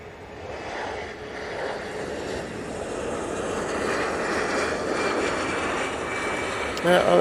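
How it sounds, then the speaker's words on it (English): An Embraer Praetor business jet moves at Manchester Airport, its engines giving a broad, steady roar that slowly builds in loudness over several seconds, heard from a distance with faint background noise. "A nice little Embraer Praetor, I see."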